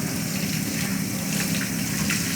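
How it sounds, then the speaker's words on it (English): Tap water runs steadily while soap is rinsed off hands at a kitchen sink during a cooking session, a continuous close, even gush with no speech. "let's rinse off all the soap"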